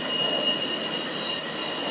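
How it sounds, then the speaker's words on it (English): A Norfolk Southern freight train hauling semi-truck trailers on flatcars passes behind a Pittsburgh home, its wheels letting out a continuous high metallic squeal over a steady rolling rumble, with no talking. "This looks like a special UPS delivery train."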